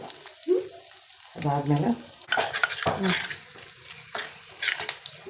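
Mustard seeds, dried red chillies and a pinch of asafoetida crackle and sizzle in hot oil for a mango chutney tempering, with spoon-stirring clinks and a voice speaking over the frying.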